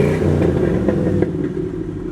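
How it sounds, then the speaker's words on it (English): A truck engine with a Flowmaster exhaust idles with a deep, throaty exhaust rumble and a few light revs, close by, with no talking. "It's got a nice Flowmaster sound to it."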